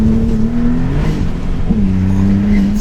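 A Maserati MC20 sports car accelerates hard while struggling for traction, its engine a steady close drone with pitch dips and a fresh rise midway as the power comes on, no voices over it.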